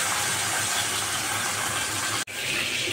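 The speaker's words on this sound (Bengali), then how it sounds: "মাছগুলো ভাজা হচ্ছে।" River bele fish fry in a pan with a close, steady hissing sizzle that holds even throughout, broken once by a brief cut near the end.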